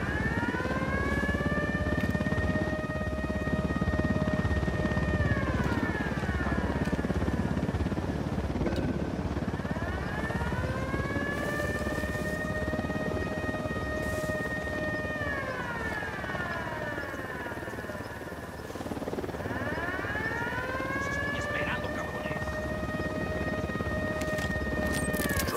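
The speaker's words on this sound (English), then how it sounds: "Chopper's approaching." Helicopter approaching in the Ghost Recon Wildlands video game, a continuous rotor drone under rising and falling siren-like wails that sweep up and down several times.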